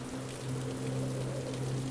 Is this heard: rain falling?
yes